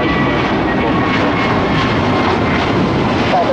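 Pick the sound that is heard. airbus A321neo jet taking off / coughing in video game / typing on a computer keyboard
airbus A321neo jet taking off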